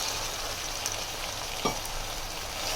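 Mutton keema tossed into frying onions with turmeric sizzles steadily in a pan, a close, even hiss with a faint stirring scrape midway.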